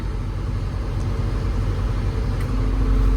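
A Sampo combine harvester's engine runs steadily on a farm, a continuous loud low rumble that swells slightly toward the end, with no talk over it.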